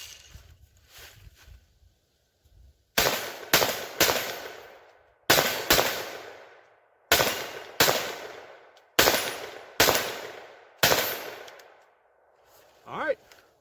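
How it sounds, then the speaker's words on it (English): Sharp, close shots from a BCA Bear Creek 10.5-inch .22 Magnum upper fired at steel targets outdoors, about a dozen loud cracks in quick pairs and singles with short decays between them. "to put some rounds on steel here and just kind of see how it does"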